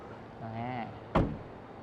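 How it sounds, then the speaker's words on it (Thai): At a 2025 motor show, a Denza B8's soft-close door shuts with a single firm, muffled thud, just after a brief voiced sound, then quiet follows. "เป็นประตูดูดไหม ลองดูนะ นะประตูดูดเป็นซอฟต์โคส"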